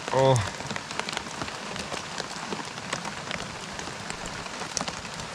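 Rain falls outdoors in a steady, close patter of drops on surfaces, with a short burst of voice at the very start and faint scattered taps over the continuous hiss.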